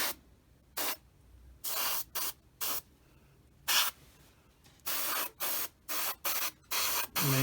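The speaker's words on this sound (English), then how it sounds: "make the coating a little more even" An airbrush or spray can applies coating to a Tamiya 1/48 F4F model in close, sharp hissing bursts of uneven length, some rapid and short, separated by quiet pauses.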